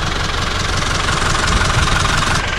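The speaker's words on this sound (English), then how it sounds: "that's the engine, and I'm sure you can hear that." An old Land Rover engine idles steadily, close and loud, with an even low rumble and slight knocking throughout, heard alone in the African bush.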